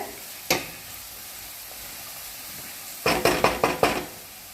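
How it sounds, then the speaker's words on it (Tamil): Kenaf leaves (pulicha keerai) sautéing in a pan, a faint steady sizzle with one sharp clank early on, then a quick run of five or six loud stirring scrapes near the end. "இது நல்லா வதங்கி வரணும்."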